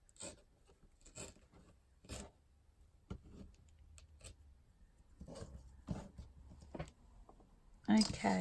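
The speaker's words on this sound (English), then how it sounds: "just tearing off my strips" Strips of old book paper being torn by hand for a craft journal, several short close rips spaced irregularly, fairly quiet in a still room.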